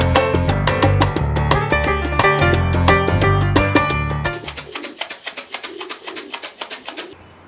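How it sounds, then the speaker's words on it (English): Racing pigeons cooing, a run of soft rhythmic coos and bird calls close by, giving way to a quicker series of pulsing, evenly spaced notes near the end. "visit a new entrant into the world of racing pigeons"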